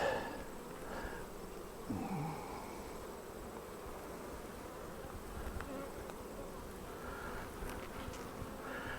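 Honey bees buzz in a steady, faint drone around an open hive during a frame inspection, with a few louder passes of individual bees flying close.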